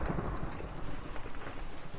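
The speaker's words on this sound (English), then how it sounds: "anytime I hear the lightning strike in game, it's not my alerts going off" Thunder from a lightning strike in Minecraft with the Pixelmon mod: a dense, steady rumble with rain-like hiss that fills the whole stretch at moderate loudness, with no talking.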